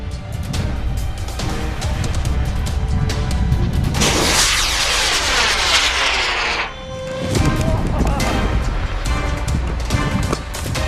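An experimental rocket launches with a sudden broad roaring blast lasting a few seconds, loud over crowd and outdoor noise, then fading as background chatter and bustle continue.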